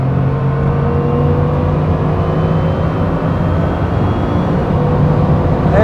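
A Bugatti Chiron Super Sport at very high speed, its engine roaring loud and steady under heavy wind and road rush, the tone climbing gradually as it keeps accelerating.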